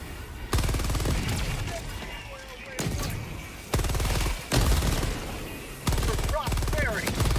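Heavy weapon fire from the Epoch gun in a video game, several loud booming bursts with short gaps between them, with other voices and effects underneath.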